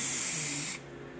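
A short, close hiss of spray glue coats the carpet of a 1958 MGA during restoration, lasting under a second before cutting off sharply.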